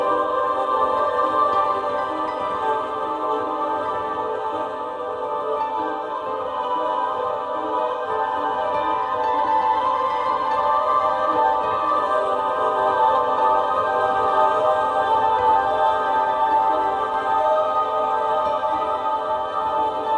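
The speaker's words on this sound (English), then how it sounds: "it's a lower sound, but also has a more like of a piano underneath that sort of choral sound of voices." A sonification of a spiral galaxy with a bright center gives a low, sustained tone layered with piano-like notes and choral voice textures, a smooth, continuous drone lasting about twenty seconds.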